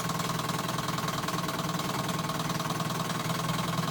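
A 1957 Johnson 5.5 hp two-stroke outboard motor runs steadily in a test tank, giving a loud, continuous buzzing drone with a fast even pulse and no talking.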